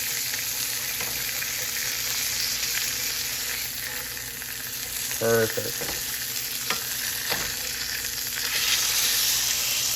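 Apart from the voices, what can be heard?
burger patties sizzling while frying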